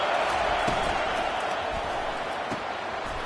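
A large stadium crowd at a college football game roars steadily and loudly throughout, a dense continuous wash of cheering with a few sharper thuds and shouts rising out of it.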